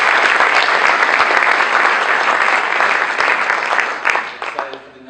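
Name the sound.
audience applause for the first two speakers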